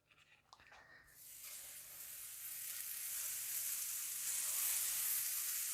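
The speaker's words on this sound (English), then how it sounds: "I'm gonna add a little bit more of butter to my fry pan because it's getting a little dry" Butter sizzling in a frying pan while eggs cook, starting after a second of quiet and building to a steady, bright hiss that grows louder and fuller to the end, with no talking.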